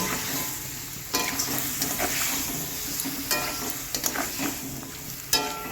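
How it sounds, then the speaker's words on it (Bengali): Vegetables for shukto, including drumsticks, eggplant and flat beans, fry with spices in a pan, giving a continuous close sizzle broken by occasional scraping stirs. "অল্প পরিমাণে মশলার সঙ্গে সবজিটাকে কষিয়ে নেব"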